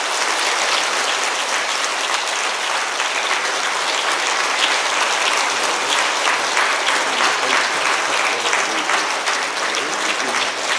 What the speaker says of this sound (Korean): 다른 때보다 뜨거운 박수로 축하해주세요